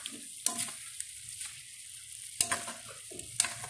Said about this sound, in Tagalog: So, haluin lang po natin ng saglit.